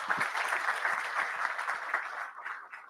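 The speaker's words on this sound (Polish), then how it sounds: "większe brawa się należą, proszę Państwa" Steady, dense applause from an audience at the opening ceremony of a regional medical rescue competition, continuous and fairly close, thinning slightly toward the end.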